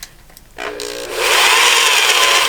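A worn-out power drill starts up with a rough buzzing, then ramps to a loud, steady close whine that keeps running.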